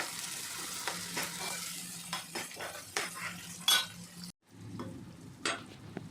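Chopped tomato and onion fry in oil for a Maharashtrian crab curry. A spoon stirs and clinks against the pan close by, over a steady low sizzle. There is a short break near the end before the sizzling resumes.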